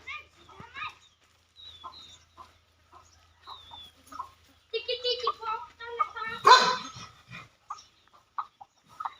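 A dog barks several times at a farmhouse courtyard among clucking chickens and a crowing rooster, with people talking nearby; the barks come in short bursts partway through, mixed with the poultry calls.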